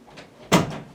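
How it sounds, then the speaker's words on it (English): A cat paws at a room door indoors, making a single soft, close thump against the door in an otherwise quiet room. "my cat was in the room and she's pawing at the door"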